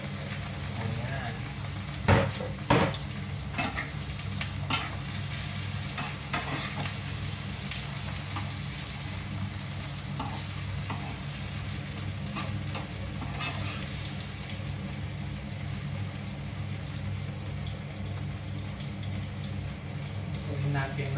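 Tomatoes sauté in a hot pan, a steady sizzle and crackle under a few sharp stirring clatters near the start, while a voice talks over the cooking.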